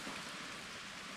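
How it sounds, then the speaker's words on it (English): Steady rain falling after a thunderstorm passes over an RV, a dense, even hiss of drops on surfaces throughout, fairly soft and with no voices. "We had a thunderstorm roll in and still raining."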